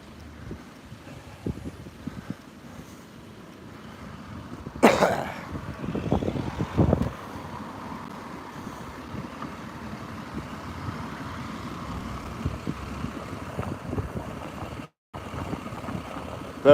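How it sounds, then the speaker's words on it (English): Gusty wind buffets the microphone on a high outdoor walk in Blackburn, with a loud rumbling blast in the middle and steady blustery noise the rest of the time. "A little gusty there then."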